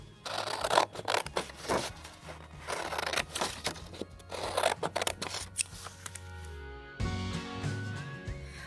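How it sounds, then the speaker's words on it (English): Regular scissors cut straight lines in paper for a paper sculpture craft, a close series of crisp snips and rustles in a steady rhythm, followed by quieter paper handling. "Now I'm going to use regular scissors that cut just straight lines."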